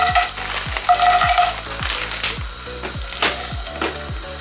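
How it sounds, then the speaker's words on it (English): Prawns fry in a little oil in a pan, a close, loud sizzle punctuated by a regular run of sharp clicking knocks as a utensil stirs them, about two strikes a second, with no talking. "I'm going to allow this to fry for a couple of minutes"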